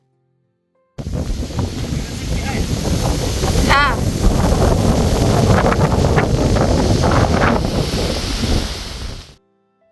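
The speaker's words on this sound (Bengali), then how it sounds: "আজকে বাইরে কি হাওয়া খালি দেখুন" Strong wind roars across a microphone outdoors in the Swedish countryside, a loud, steady buffeting rush that fills the clip, with a brief spoken word near the start.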